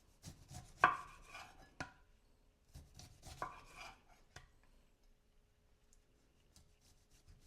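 A knife slices through apple on a board for mulled cider, giving bursts of crisp cutting and rubbing strokes with short pauses, close and fairly quiet, fading to near silence toward the end.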